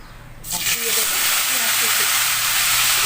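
Onion paste hits hot salted oil in a kadai while bhetki fish is being cooked, bursting into a loud, steady hiss that swells after a quiet start and holds strong to the end, with no talk.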